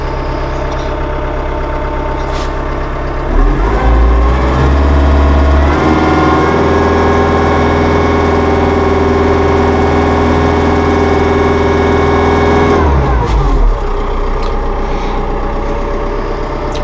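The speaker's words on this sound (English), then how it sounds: "decibel readings, low 50s at idle speed" A Massey Ferguson compact tractor with a deluxe cab idles steadily, its low engine hum rising briefly to a higher throttle drone for several seconds before settling back to idle, close and alone without talk.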